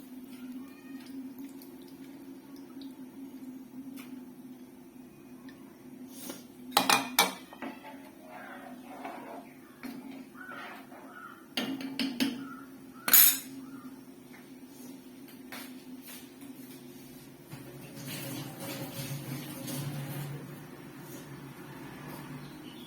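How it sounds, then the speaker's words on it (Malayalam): Sardine pieces dropped into boiling curry paste in a home kitchen pot, heard as a few soft wet plops and clatters against a steady low hum, with quieter bubbling and utensil sounds in between. "നമുക്കിനി നമ്മുടെ മത്തി കഷ്ണങ്ങൾ അതിനകത്തോട്ട് ഇട്ട് കൊടുക്കാം"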